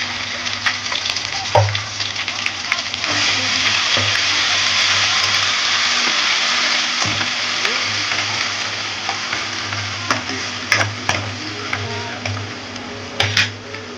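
Onions with ginger paste sizzle steadily in hot oil for a country chicken curry, a loud continuous fry punctuated by scraping stirs and clinks of a spoon throughout.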